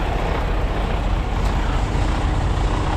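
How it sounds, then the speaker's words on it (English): Diesel truck engine idling after a radiator repair during a roadside stop in the rain, a dense steady low rumble that stays loud and constant throughout, with no talking. "You can tell the truck is on now,"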